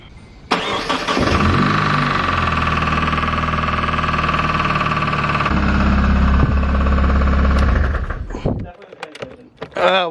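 A car with a faulty, noisy transmission starts and runs, a loud rough engine drone with rattling and knocking underneath that shifts pitch partway through, then cuts off near the end.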